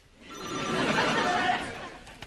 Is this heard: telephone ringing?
yes